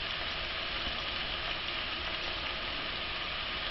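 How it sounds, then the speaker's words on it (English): Navajo fry bread dough cooks in very hot oil, giving a loud, continuous, even bubbling sizzle heard up close with no other sounds. "As long as you have the oil hot enough, you have the temperature hot enough, it should fairly cook around the 15-second point."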